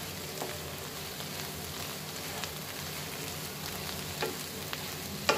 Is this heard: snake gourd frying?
yes